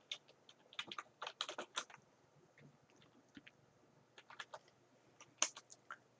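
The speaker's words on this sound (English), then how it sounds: "I'm going to type in today's date." Light, quiet typing on a computer keyboard, scattered clusters of soft key taps with short pauses between, heard alone and close.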